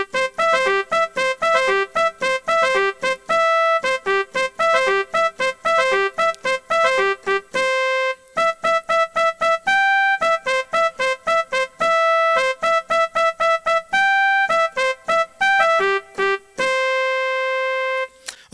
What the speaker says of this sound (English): the most obvious recognizable song is Reveille